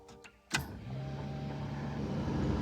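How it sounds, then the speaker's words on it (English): Steady interior blower fan in a 1988 Toyota MR2 AW11 with no air conditioning, switching on with a click and then a sustained whooshing hum with a low tonal drone, close and continuous. "Hey, the fan works."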